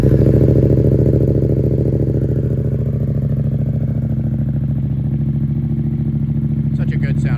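A 2025 Yamaha MT07 with an Arrow full exhaust runs steadily near the listener, a loud, deep, even engine drone that holds throughout with a faint clatter on top.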